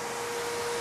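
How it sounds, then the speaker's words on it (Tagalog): A running electric blower for cleaning cars gives a steady, broad whooshing hiss with a faint constant whine, unbroken and fairly close, with no talking during it. "Ayan, so gumagana yung blower."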